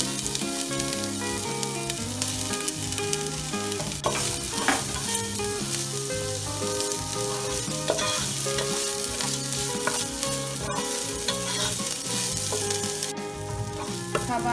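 Two chopped onions sauté in a pan for egg biryani, with a loud, continuous sizzle and frequent stirring scrapes close by, and background music playing throughout.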